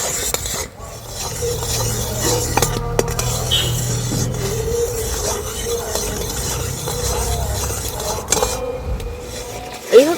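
Spoon stirring mango pulp and sugar in a pan, continuous scraping and clinking over a low bubbling, sizzling background, steady throughout.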